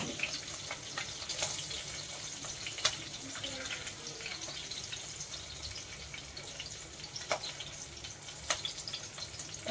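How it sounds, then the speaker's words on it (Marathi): Slit green chilies sautéing in a pan for kurma rice, a steady low sizzle with scattered faint pops and crackles running throughout, no talking. "4-5 हिरव्या मिरच्या घेतल्यात, अशा उभ्या चिरून घेतल्यात, थोड्याशा हलवून घेऊया, परतून घेऊया"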